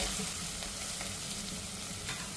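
Onion and tomato sauté with turmeric in a pan for a Konkani wet cashew curry, giving a soft, even sizzle with faint stirring scrapes and no speech.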